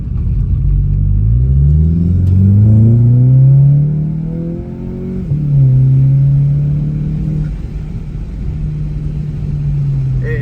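A VW MK7 GLI fitted with an AWE Non-Resonated Track Edition exhaust revs up and settles several times, its deep rumbling engine note rising and falling close by.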